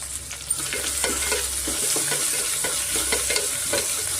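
Medium-sized onion with a pinch of salt frying in a pan for tomato bath, stirred with repeated scraping strokes over a steady close sizzle, no voices.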